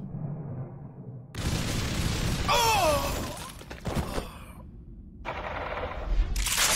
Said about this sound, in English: Whoa, what's that? Who's shooting?